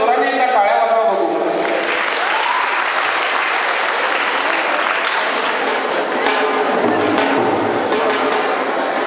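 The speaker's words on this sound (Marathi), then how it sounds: "इतक्या जोराने एकदा टाळ्या वाजवा बघू" A large audience at a Marathi literary conference claps loudly and continuously, dense sustained applause filling the hall for several seconds after a short stretch of talk at the start.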